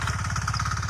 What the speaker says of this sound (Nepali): ट्र्याक्टर जोतेर कस्तो भइरहेको